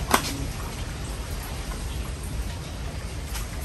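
Steady rain hissing, constant and fairly loud, with no voices.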